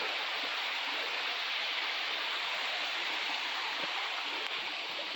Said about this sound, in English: you can see this waterfall right here